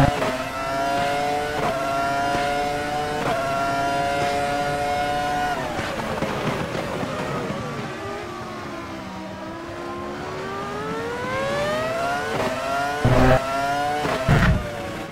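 A 2010s-era Formula Reiza race car from the Automobilista racing game howls at high revs, its engine pitch climbing and dropping through gear changes, then rising again, with a couple of sharp bumps near the end.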